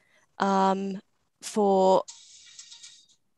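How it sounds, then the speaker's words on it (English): A mobile phone ringtone rings out during a formal meeting roll call, playing two loud melodic bursts separated by a short pause, followed by a fainter, lingering tail. "that's my phone"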